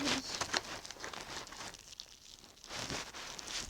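Plastic bag packaging around a wireless headphone set being pulled open with one hand, giving close, busy crinkling and rustling bursts that thin out for a moment and then return.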